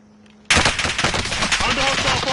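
Sudden bursts of rapid gunfire from a Call of Duty video game erupt after a brief quiet start and continue densely and loudly, with overlapping shots filling the rest of the moment.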